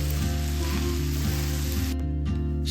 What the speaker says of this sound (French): je viens rajouter mes haricots et enfin mes crevettes. Et je vais tout mélanger et faire revenir